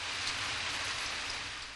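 Cartoon rain falling, a dense even wash of hissing drops, fairly loud and unbroken, with no voices over it.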